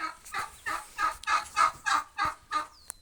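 A young turkey hen gobbles nearby in a rapid series of about eight rhythmic, throaty calls, with a faint sharp chirp at the end.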